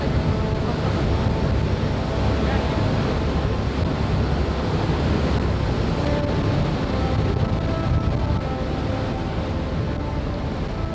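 Steady roar of wind buffeting the microphone on an open boat tour passing under a bridge in Istanbul, loud and constant for the whole stretch, with no break and no voices.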